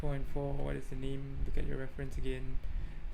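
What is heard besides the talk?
No distinct noise like a dog, phone or traffic.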